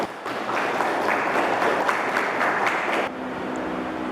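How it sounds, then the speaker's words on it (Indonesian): A group of schoolchildren in a classroom applauds a student group with a few seconds of dense, even clapping that stops abruptly, leaving a faint hum. "Kita kasih tepuk tangan untuk kelompok 2."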